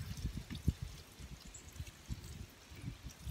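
Water poured over colorful pebbles in a flower pot, giving a faint, uneven run of soft splashes and trickles with a few sharper drips, quiet and close.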